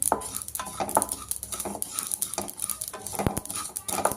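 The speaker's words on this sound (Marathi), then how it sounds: "कढई गरम झाली होती आणि आवाज देखील तडतड येत आहे" Poppy seeds roast in a hot kadai with an uneven, close crackle and the scrape of a spoon stirring against the metal. A few sharper knocks stand out over the patter.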